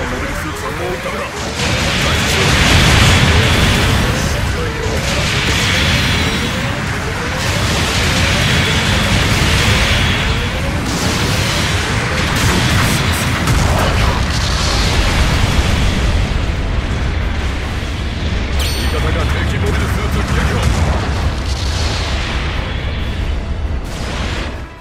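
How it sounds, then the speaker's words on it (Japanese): Artillery barrage in the mech game Gundam Battle Operation 2: a dense, continuous roar of loud explosions and booms rolls through the whole stretch, with a voice talking over the bombardment. "後方部隊からの砲撃が始まった。"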